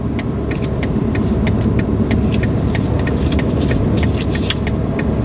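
Car creeping off slowly on clutch bite during a driving lesson, a steady low engine hum close in the cabin, with faint light clicks and rattles over it.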